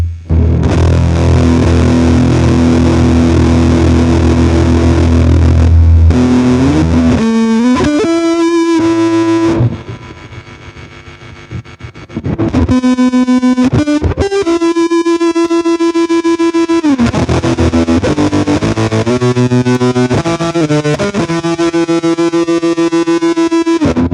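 Heavily distorted electric guitar through an Amplitube Fender Champion 600 amp simulator with effects pedals, playing sustained riffs and chords with a brief quieter swirling break midway, loud and continuous.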